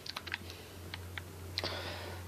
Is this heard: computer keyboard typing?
yes